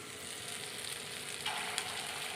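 Lentil fritters (bora) frying in hot oil in a wok, a steady close sizzle with a brief sharper crackle as more batter hits the oil.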